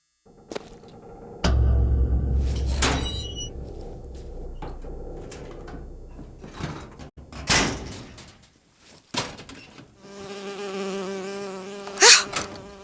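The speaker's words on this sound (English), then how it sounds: "Oh, it's a bee." Bee in BioShock Infinite buzzing in rising and falling passes, loud and close at moments, among door slides, clanks and other game sounds.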